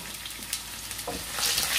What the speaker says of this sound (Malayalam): ഇഞ്ചിയും വെളുത്തുള്ളിയും ഒന്ന് മൂത്തിട്ടുണ്ട്.